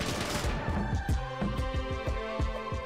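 Rapid bursts of gunfire from the video game Lisa: The Painful ring out in quick repeated cracks with a ringing tonal tail, a steady fusillade over about three seconds with no voices.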